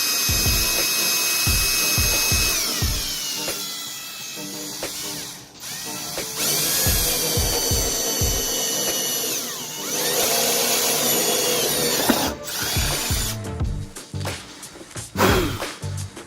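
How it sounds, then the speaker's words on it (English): A power drill whines loudly in long bursts, its pitch dipping under load as it bores holes while fitting new parts to a Ford Super Duty, with brief pauses and clicks between runs. "you just carefully drill it out"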